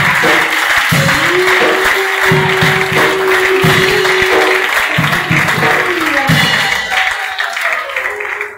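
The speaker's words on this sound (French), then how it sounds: "Acclame pour la gloire de Dieu. Acclame les efforts." A church congregation at a deliverance service claps and cheers loudly and steadily, with a dense wash of applause and a sustained raised voice riding over it before the sound tapers off.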